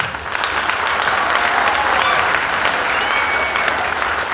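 Audience applause at a gully cricket event in Chandigarh, a sustained round of clapping from a crowd lasting several seconds at even volume.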